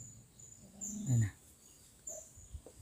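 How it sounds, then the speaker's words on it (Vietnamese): A neighbour's dog barks once at a distance outside an abandoned, decaying house, over a quiet background with faint insect-like chirps. "bây giờ là con chó, nhưng sàn xóm nó sủa nè."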